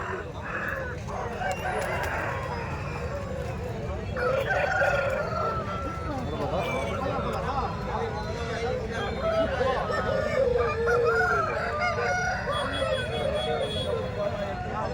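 Roosters crow and hens cluck amid a busy babble of voices at a large chicken market in Kundarapalli, with calls rising and falling throughout.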